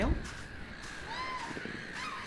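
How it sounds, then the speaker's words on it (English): Seagulls calling in the video game Minute of Islands, a few bright, rising and falling cries over a soft ambient backdrop. "Seagulls sound like they're having a great time."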